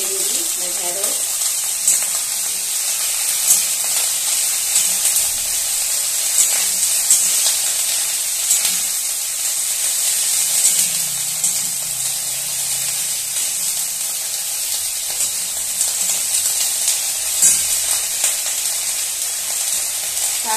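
Okra (lady's finger), cut and washed, sizzling steadily in hot oil in a home kitchen, a continuous bright frying hiss that stays close and even throughout.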